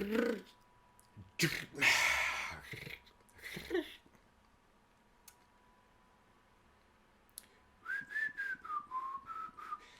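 Someone whistles a short, wavering tune near the end, after a few breathy sounds and quiet clicks.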